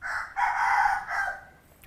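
A rooster crows loudly and clearly in one long, drawn-out call with a brief break partway through, heard on its own without any talking.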